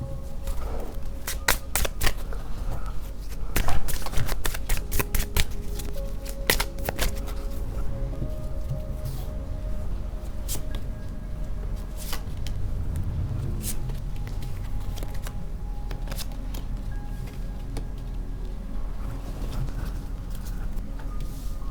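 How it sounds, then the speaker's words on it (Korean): Tarot cards being shuffled and drawn at close range, a steady soft riffling and flicking that runs throughout, with scattered sharper taps and slaps as cards are laid down. Low background hum underneath, and no voices. "앞으로 어떻게 이분이 나올지 한번 마지막으로 카드를 뽑아볼게요."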